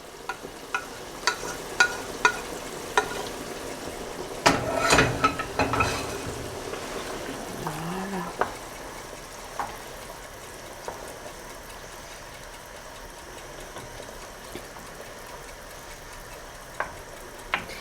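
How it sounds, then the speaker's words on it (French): Cuttlefish in tomato sauce on a gas stove, a steady faint sizzle and bubbling with scattered light clicks and one louder burst of stirring clatter partway through, close with no talk. "On va mijoter avec la sauce tomate, ça va être cool."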